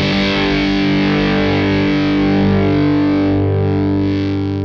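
An electric guitar through a Crazy Tube Circuits Motherload distortion pedal rings out with a single sustained, saturated note or chord, smooth and singing, holding loud before gradually easing off at the end.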